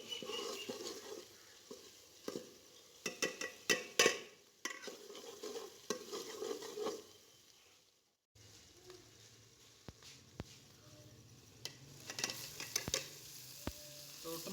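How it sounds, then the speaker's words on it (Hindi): Onions browning in ghee in a pot, a crackling sizzle with frequent scraping stirs and clacks, briefly dropping away before resuming more quietly. "तो अभी ये प्याज को मैं ब्राउन करके फिर टमाटर और मिर्च डाल दूँगा इसमें।"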